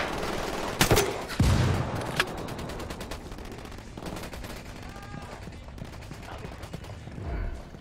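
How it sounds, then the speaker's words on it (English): Video-game gunfire: a few loud, close shots near the start, then quieter, rapid distant shooting and mechanical clatter fading through the middle, with one more thump at the end. "Opening fire."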